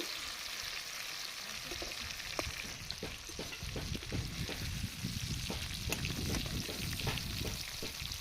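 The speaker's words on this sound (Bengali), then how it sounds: "এইভাবে কফিটা আমি ভেজে নেবো" Cauliflower pieces fry in a pan of oil with a constant, hissing sizzle. Occasional soft stirring clicks sit on top, and the sound is fairly faint and steady throughout.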